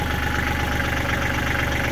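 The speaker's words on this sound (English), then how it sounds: "when I push this button, you can watch the" Hydraulic grapple on the front of a Kubota L3400 tractor being worked through a third function valve, with a steady, loud engine idle droning throughout.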